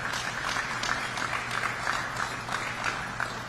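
Modest applause from an audience at a New Jersey governor's manufacturing announcement, a fairly quiet, steady patter of clapping with a low hum beneath it.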